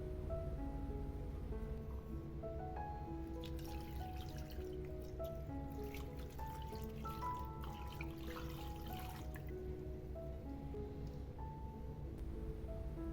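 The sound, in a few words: water being poured into pan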